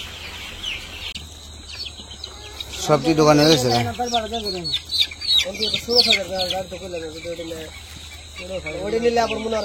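Chickens on a poultry farm cluck and squawk in short bursts close by while people talk over them, with a steady background hum.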